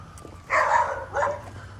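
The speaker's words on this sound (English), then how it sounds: "there's a big dog. He's not used to seeing pedestrians." A big dog behind a baby gate along a residential street barks twice at passing pedestrians, two deep, fairly close woofs in quick succession.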